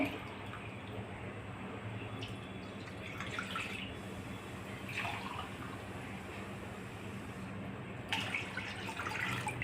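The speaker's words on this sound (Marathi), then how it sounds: "आता पाणी उकळत ठेवणे।" Water for cooking barnyard millet is poured into a pot to boil, heard as a faint, steady trickling and splashing with a few slightly stronger bursts, in a quiet kitchen.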